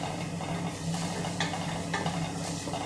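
Ginger garlic paste and onions are stirred in a pan while cooking for a chicken curry: a continuous low sizzle with faint scraping and a couple of light utensil clinks, no speech.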